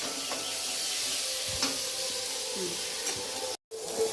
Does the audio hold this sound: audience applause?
no